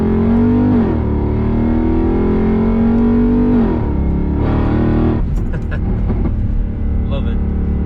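A Mercedes CLK 63 AMG Black Series with a stage 3 Weistec supercharger, engine droning loudly at low revs with rising and falling pitch swells, then a rougher burst near the end, under a continuous close-up voice.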